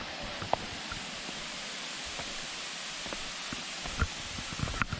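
A waterfall spilling into a small pool at Gozalandia, a steady broadband rush of falling water heard from a distance, constant throughout with a few faint footsteps or knocks nearby.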